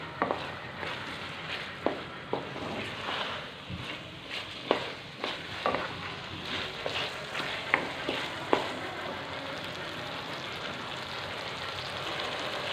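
A spatula stirs turmeric, dry coriander and salt through a hot cooking pan for aloo matar sabzi. Close scraping strokes land about once a second over a soft, constant frying sizzle.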